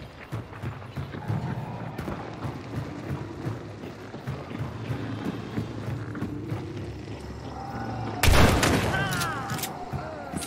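Explosive-round gunshots in Hunt: Showdown, with a single loud blast late on that rings out and echoes, set against busy rustling, footsteps and mechanical clatter while a voice talks in the background.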